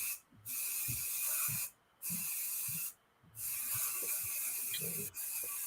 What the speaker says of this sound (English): Definitely gonna have to go get some more hairspray